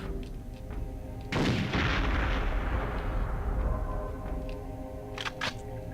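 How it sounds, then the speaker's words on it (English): A Devastator weapon in the video game Perfect Dark blows up a section of wall: one sudden deep explosion that rumbles and decays over several seconds over a low steady game hum, followed by a couple of faint clicks. "Alright, back to the Devastator. Because here's a section of the wall that can be blown up."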